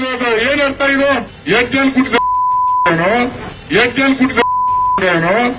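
Repeated steady censor beeps cut into a man's loud, angry Kannada speech, each tone lasting about half a second and fully replacing the abusive words between bursts of ranting.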